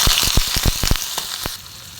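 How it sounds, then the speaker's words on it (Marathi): Onion dropped into hot oil with cumin and garlic for a capsicum dish, crackling in a rapid burst of sharp pops that fades into a quieter hiss. "तेल टाकलं, जिरे, लसूण,"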